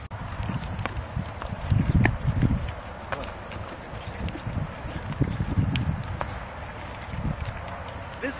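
A horse moves at a walk while being steered entirely with the reins, its hoof falls thudding irregularly at close range amid gear rustle and outdoor background noise.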